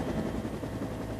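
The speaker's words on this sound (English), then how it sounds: "from a U.S. Army helicopter" A U.S. Army helicopter in flight gives a steady, dense rotor and engine rumble with no break and no talk.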